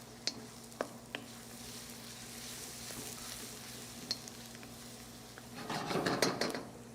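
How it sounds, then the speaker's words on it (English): Minced garlic sizzles and fries softly in a pan. Scattered clinks of a utensil against the cookware sound over it, and stirring swells louder near the end. "And some minced garlic. Again, we're going to cook this until it's nice and fragrant."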